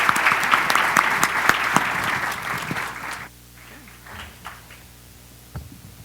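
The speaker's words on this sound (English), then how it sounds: "That was very nice applause" An audience at a Westchester county morning panel discussion applauds the panelists, a dense burst of clapping for about three seconds that then drops to a few scattered claps under quiet room sound.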